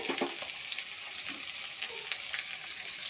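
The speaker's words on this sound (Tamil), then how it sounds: "வெங்காயம் சேர்த்துக்கலாம்." Garlic and onion frying in a pan for a field-crab curry, giving a soft, steady hiss of sizzling oil with a few light stirring clicks, quiet and close with no talking.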